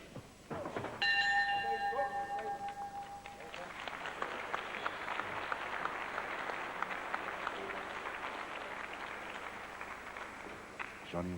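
A ringside bell clangs rapidly at the end of a wrestling round, bright and metallic for a few seconds, then gives way to sustained crowd applause and cheering with a commentator speaking underneath.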